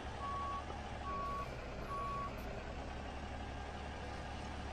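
Reversing alarm on a truck in American Truck Simulator, three steady evenly spaced beeps over a constant low engine drone, clear and alone.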